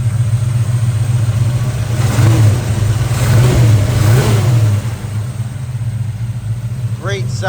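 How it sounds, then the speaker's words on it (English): A 1971 Chevrolet Chevelle's 383 V8 with 3-inch dual exhaust and an X-pipe rumbles at idle, then revs up in a few throaty surges before settling back, close and loud. "Great sounding engine"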